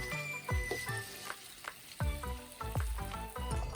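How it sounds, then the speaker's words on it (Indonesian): Durian pieces fry in hot oil outdoors for a second batch, with a steady close sizzle broken by repeated spatula scrapes and stirring knocks against the pan, no talking. "Di penggorengan kedua ini akan lebih cepat karena minyaknya sudah panas"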